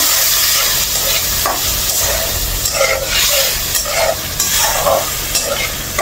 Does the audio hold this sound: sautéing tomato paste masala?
yes